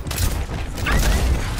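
Overwatch gunfire in a busy match: a loud, rapid run of shots and thuds mixed with game effects, dense and close, with no clear talk.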